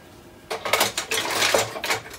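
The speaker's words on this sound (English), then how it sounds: "I mean unpack my dish rack." Dishes clatter as a dish rack is unpacked, a quick series of close clinks and knocks of plates and cutlery over about two seconds.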